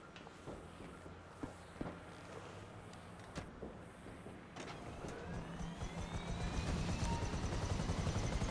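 A helicopter in the video game GTA 5 Online spools up with a steady rotor and engine drone that grows louder and denser, with scattered footsteps and clicks early on.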